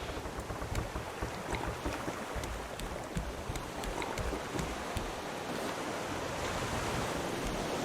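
Ocean waves in the survival video game Raft, a steady wash of surf and sloshing water around a floating raft with gusty wind noise, continuous and moderately loud with no talk over it.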